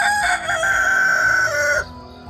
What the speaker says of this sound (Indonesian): tiba-tiba terdengar suara ayam berkokok sangat lantang